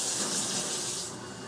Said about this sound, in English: that would be my mom running water in the kitchen